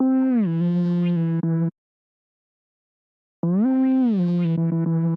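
A bright synth lead plays two sustained phrases with sliding pitch, separated by a short silence, loud and upfront with no voices.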